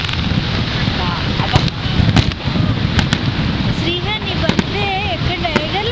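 Fireworks over Niagara Falls: a few sharp bangs and crackles burst through steady wind rumble and crowd noise, while people talk and call out nearby.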